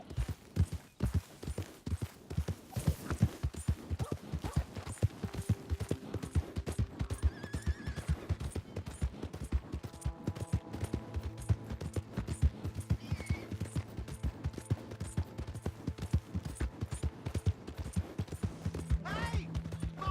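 Horse in Red Dead Redemption 2 clip-clopping steadily on the ground, close and prominent, with whinnies and snorts mixed in and occasional game sounds around it.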